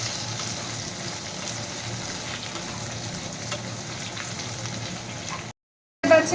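Boiled potatoes with cumin frying and being stirred in a pan give a steady close sizzle with faint scraping, cutting to silence briefly before ending on a louder burst.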